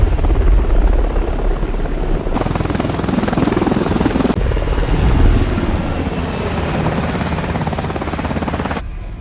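A military helicopter carrying a special forces team flies close and loud, its rotor chop and engine roar steady and continuous with no one speaking.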